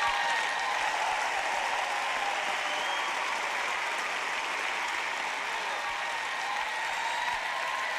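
An audience at a church worship service breaks into sustained, dense applause with some cheering, a steady roar of clapping that fills the hall throughout.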